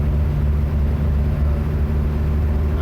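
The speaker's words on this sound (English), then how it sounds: "It really doesn't take much throttle to be going along the road at like 35," A Chevrolet Chevette engine cruises at about 35 mph on light throttle, giving a steady, close, low droning hum with constant loudness and no talk.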